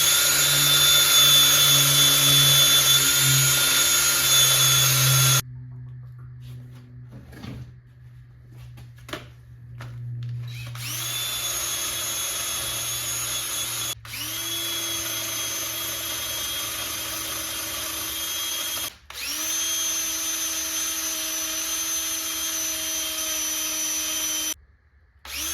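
Wire wheel on a power tool grinding down the back of a distributor housing for an AWD B-series engine coil-on-plug install, loud high whining bursts that start, spin down and restart several times, with quiet gaps between.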